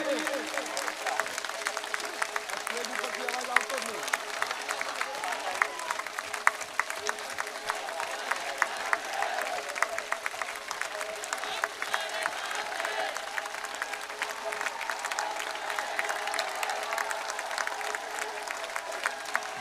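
Sustained applause rolls on from a large outdoor political rally crowd in Banaskantha, thousands of overlapping claps forming a dense, even wash with scattered sharper slaps, while indistinct voices murmur faintly underneath.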